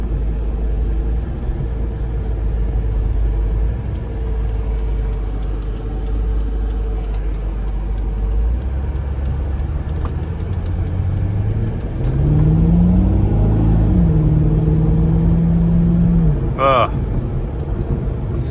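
A low-mileage 1998 C5 Corvette with its LS1 V8 drives along under a steady, loud low rumble, rising in pitch as it accelerates and then settling, while someone talks over the engine throughout.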